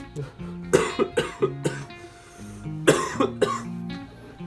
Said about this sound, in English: Not a Corona cough.